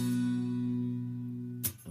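A single guitar chord from a rhythm part, left to ring with sustained tones that slowly fade, then cut off by a short scrape or handling noise near the end.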